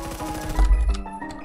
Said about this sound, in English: See, now mine shoots through the wall.